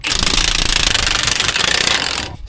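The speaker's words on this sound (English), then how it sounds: "Then we use the impact, snug everything up" A pneumatic impact wrench rattles loudly and continuously for about two seconds as it snugs up leaf spring U-bolt nuts during a lift kit install on a K20 squarebody Suburban, then cuts off abruptly.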